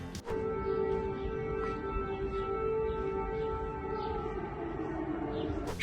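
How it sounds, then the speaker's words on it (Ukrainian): A steady wailing civil defense siren tone holds throughout, droning continuously at moderate loudness with a low rumble underneath, sounding over flooding in Kurgan, Russia. "Курган тоне під звуки сирен."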